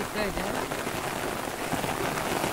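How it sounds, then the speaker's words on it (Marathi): Steady, dense rain falls on the Konkan paddy fields at rice-transplanting time, a close, even patter across the whole stretch, with a voice faintly underneath. "हो बघा पाऊस कसं पडता तो बघा"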